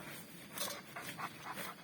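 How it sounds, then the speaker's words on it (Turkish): A dog pants softly in a quick, rhythmic series of breaths, close by and quiet, with no other sounds around it. "Çok şey bir köpek, güzel bir köpek."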